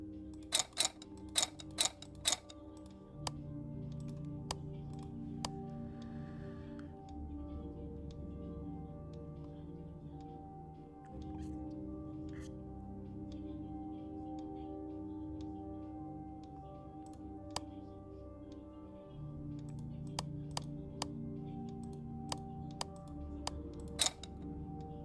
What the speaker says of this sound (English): There's a ticking coming from inside the box.